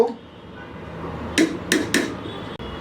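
An egg beaten with sour yogurt in a bowl: three quick, sharp clinks of the utensil against the bowl close by, separated by short gaps over a faint room background.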